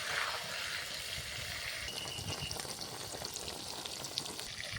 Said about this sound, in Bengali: দিয়ে ভালো করে বেগুনটা লাল লাল করে আমি ভেজে নেব